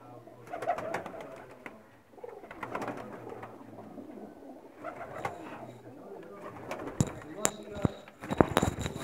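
Male flying pigeons cooing in soft, repeated low calls, with rustling, fluttering and occasional sharp taps nearby; a voice can be heard in the background.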